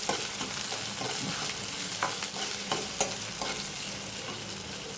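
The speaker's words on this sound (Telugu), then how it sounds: "2 మినిట్స్ వేగనిద్దాం. వేటి పెడితే 2 మినిట్స్ వేగుతుంది" Green chillies fry in a hot pan for semiya upma, giving a continuous crackling sizzle with scattered clicks of stirring throughout, with no talking.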